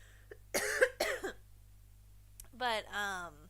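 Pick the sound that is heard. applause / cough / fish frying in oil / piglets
cough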